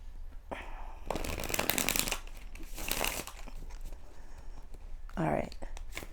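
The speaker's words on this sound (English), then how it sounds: "One more shuffle." Tarot cards being shuffled in several quick riffling bursts, crisp and close, with brief pauses between them.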